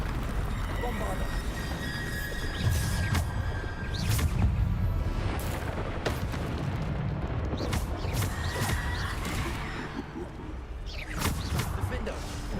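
Bombarda blasting spells go off in the Hogwarts Legacy video game, a few dull booms and crashes layered over busy game noise, with a player talking throughout.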